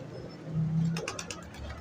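Pigeons in a breeding loft give a soft low coo partway through, followed by a brief flutter of wing beats, faint against quiet background hum.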